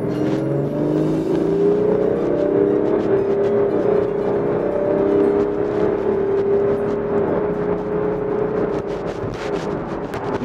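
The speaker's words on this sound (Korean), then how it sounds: "가속 한번 밟아볼게요." A BMW X5 40d diesel SUV accelerates hard from inside the cabin, its engine drone rising steadily in pitch as it pulls, loud and continuous with no talking.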